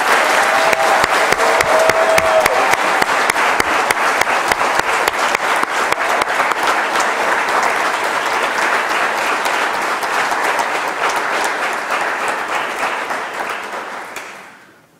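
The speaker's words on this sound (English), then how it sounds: "Let's give one more round of applause for Dre." A large audience at a university graduation ceremony applauds in a long, sustained, loud round of dense clapping that holds steady before fading out at the end.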